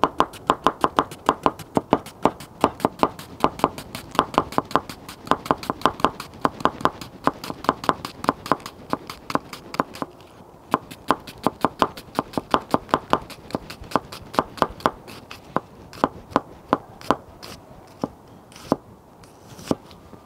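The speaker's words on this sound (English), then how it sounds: "now let's do the onion with the VG10 from Forge to Table." Rapid, steady knife strokes chop an onion on a cutting board with a VG10 Japanese gyuto, a crisp rhythmic tapping that runs continuously and close by, thinning out toward the end.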